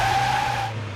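Car tires skid and squeal loudly as the vehicle gets stuck, with a steady engine drone under a high whine that fades toward the end.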